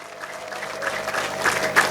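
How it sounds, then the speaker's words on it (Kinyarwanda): A gathered audience at a ceremony breaks into steady, dense clapping, with a few high ululation-like cries rising above it near the end. No one speaks. "Nta kindi nasaba abateraniye aho sibye gukoma amashyi menshi n'impundu."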